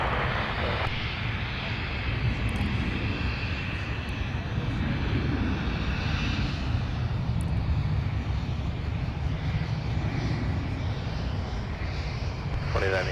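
An airliner takes off at Minneapolis–Saint Paul (MSP) airport, a steady broadband engine roar holding loud and constant throughout, with radio voices talking over it.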